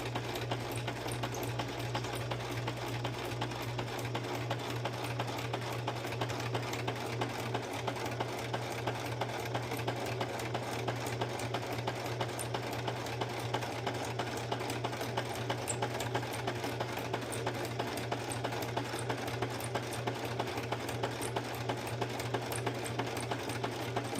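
Sewing machine running slowly in a steady, continuous stitching rhythm, with a constant low hum and rapid repetitive needle clatter, close and alone with no talk.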